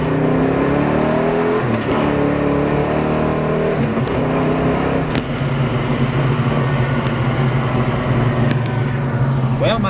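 A 1968 Pontiac GTO with a four-speed manual, engine roaring up through the gears, each rising rev pulling back at a shift before climbing again, loud and close throughout with an interior feel.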